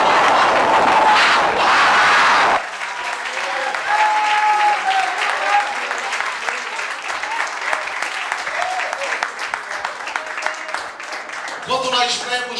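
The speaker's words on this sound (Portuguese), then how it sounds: "se as suas palmas foi para Jesus, pode ser melhor, porque ele é digno de toda a honra" A church congregation in Presidente Prudente bursts into loud, dense applause that drops after a couple of seconds into steady, sustained clapping, with a voice coming in at the end.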